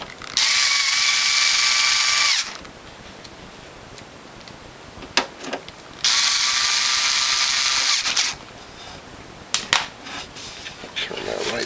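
Power driver sinking screws into the base plate of a WHF or Norwalk juicer, two loud sustained whirring runs separated by quieter clicks and handling noise.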